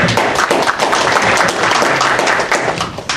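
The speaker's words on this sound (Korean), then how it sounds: "이런 대목은 박수를 쳐고 그럴 것 같습니다" An audience at a political event in Korea claps in a dense, continuous burst of applause, with many hands patting at once, loud and close and steady throughout.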